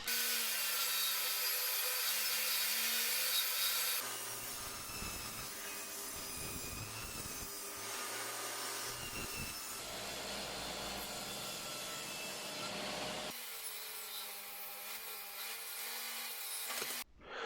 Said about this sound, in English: clamp it down and wang them all through, making sure that you keep this jointed edge against the table saw fence